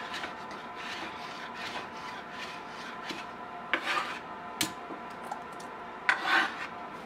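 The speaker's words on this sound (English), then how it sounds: "So she's dicing these, you know, about 1/4 inch, 3/8 inch in size." Knife dicing ingredients on a cutting board for New England stuffed clams, a steady soft rasping run of cuts with a few sharper knocks and scrapes near the end, close and fairly quiet with no talk.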